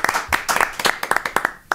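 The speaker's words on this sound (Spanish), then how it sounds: "Un aplauso para Tao" A podcast audience claps for a guest in a short burst of scattered, uneven hand claps, close and fairly loud, with a voice faintly underneath.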